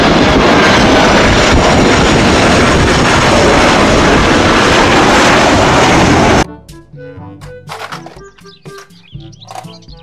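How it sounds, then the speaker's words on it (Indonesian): Loud, steady roar of a toy airplane's engine sound for several seconds, then it cuts off abruptly, followed by a short burst of music. "Pesawat terbang."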